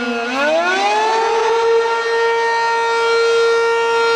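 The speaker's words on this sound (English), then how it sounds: "Next is a Cap 15 siren." A Cap 15 civil defense siren winds up from a low growl into a loud, steady wailing tone that holds its pitch, heard alone and close.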